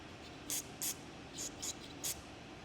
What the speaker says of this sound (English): spraying carb cleaner all over my hands is gonna be what we have today